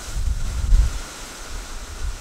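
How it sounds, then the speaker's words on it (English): Strong outdoor wind buffets a microphone with a steady low roar and gusty rumbles that swell and ease, loud and unbroken, with no voices. "Wow, that's really windy here."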